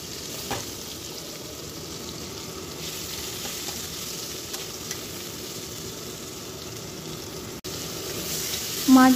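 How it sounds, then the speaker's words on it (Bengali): Potatoes frying in leftover fish-frying oil in a home kitchen pan, a steady close sizzle with occasional light stirring scrapes, continuous throughout. "মাছ ভাজার যে তেলটা ছিল সেই তেলের মধ্যেই আমি আলুগুলোকে একটু ফ্রাই করে নিচ্ছি"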